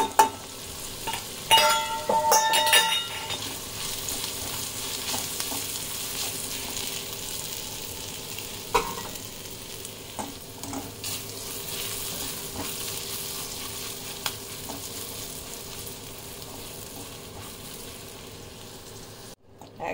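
Gram flour and ginger frying in a pan, a soft, continuous sizzle at moderate distance with a few clattering stirs near the start and occasional sharp ticks, fading quieter toward the end.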